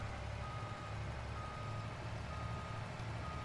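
A truck in the forestry video game SilverRun Forest creeps along with a steady engine rumble while its reversing alarm beeps in a regular, repeating rhythm nearby; nobody speaks.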